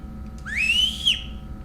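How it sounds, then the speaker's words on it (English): A whistle from a game mechanic in a horror-style video game sweeps upward into one clear, bright tone. It holds steady for about half a second, then drops off sharply over a low background hum. "Whistle mechanic."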